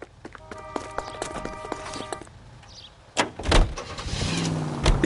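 A car in the LA Noire video game on PS5 gives soft door and mechanism clicks first, then the engine starts with a surge and keeps running steadily nearby.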